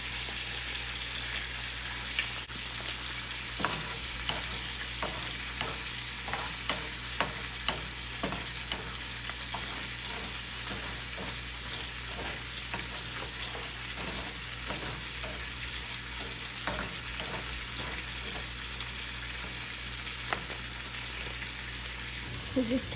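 Rice sizzles steadily as it fries in a hot pan for a chicken and mole dinner, with scattered scraping and clicking stirs from a utensil close by. A low hum runs underneath throughout.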